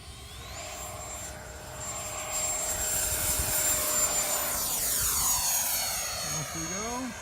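Avanti EDF model jet with a ducted fan taking off from a runway, a steady high whine that rises and holds loud, with a strong tone sweeping upward as it pulls away over the field, and people talking quietly under it.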